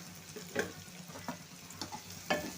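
Egg fry being stirred in a pan with a little oil, giving a low steady sizzle broken by several soft scraping strokes of the spoon at uneven intervals, close by with no talking.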